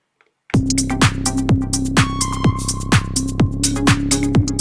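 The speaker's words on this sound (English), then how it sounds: "I'll use a Reese bass or a longer bass in the build-up" Reese bass from an electronic music build-up, a loud sustained detuned low drone running under steady rhythmic hits, with bright ticking accents and swelling noisy layers on top, starting abruptly after a moment of silence.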